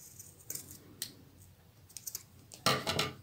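Scissors cutting thick macrame cord close by, a few sharp snips and clicks spread across quiet, ending in a louder burst of crisp cutting rustle.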